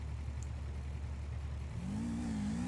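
A motorcycle engine in a parkour video game hums low and steady, then rises in pitch as it revs near the end, with no talking over it.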